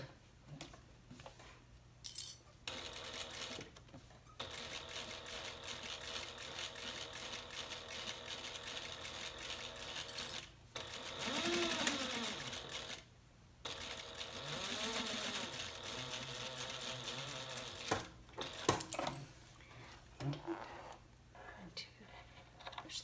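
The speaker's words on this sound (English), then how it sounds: "we are going to top stitch on the fabric through the seam allowance of the" A sewing machine top-stitches through fabric and the seam allowance of vinyl for a handbag side pocket, running in a steady whirring stretch with brief pauses and a second burst, while someone talks over it.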